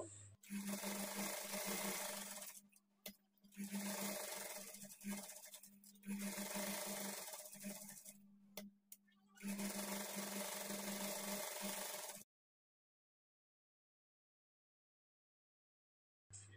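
Sewing machine running steady stitches joining blouse lining to main fabric, a loud close hum in four long runs separated by brief pauses, then silence at the end.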